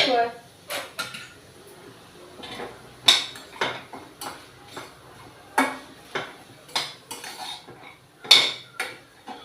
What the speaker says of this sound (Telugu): మధ్యలో ఒకసారి కలుపుకుందామండి